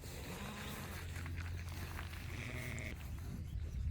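A sheep bleats on a homestead farm, a drawn-out bleat rising over a constant outdoor rumble, with soft shuffling and movement nearby.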